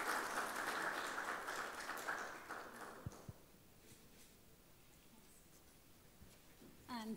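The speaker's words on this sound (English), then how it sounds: "A big round of applause, please." An audience at the IBMC Fest 2018 session in Sharjah applauds for about three seconds, a soft wash of clapping that dies away into quiet room noise before a voice starts.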